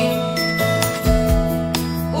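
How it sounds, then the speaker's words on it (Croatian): A doorbell chimes at a front door, a bright ringing tone with several struck ding notes sounding close over a sustained musical background. "na vrata mu zvoni"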